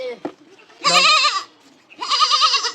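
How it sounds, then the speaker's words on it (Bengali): A goat bleats loudly twice, each cry long and wavering, with a short pause between them. "এই দেখেন আরো ছাগল আছে দেখে নিয়ে আসে যেটা চিল্লাচ্ছে ওটাই দেখি আগে"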